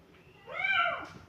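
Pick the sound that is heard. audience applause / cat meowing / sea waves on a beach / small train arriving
cat meowing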